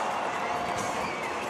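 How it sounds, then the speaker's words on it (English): A crowd at an indoor soccer match at the RP Funding Center gives an ovation: a steady wash of distant cheering and applause, with a commentator's voice faintly under the noise. "Big ovation from the crowd here at the RP Funding Center"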